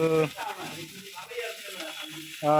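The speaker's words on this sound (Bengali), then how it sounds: "সর্ষের তেল দিয়ে পাবদা মাছ ভাজা করতেছে" Pabda fish fries in mustard oil, a soft constant hiss running under a voice that talks over most of the short stretch.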